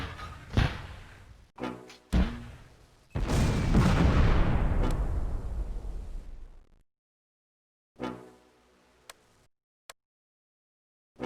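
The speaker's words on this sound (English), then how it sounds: "Oh shit, mortar." Mortar fire in the Close Combat: A Bridge Too Far video game, heard as several sharp booming impacts. One long, loud blast rumbles and fades over a few seconds, followed by silence and a few brief, fainter hits.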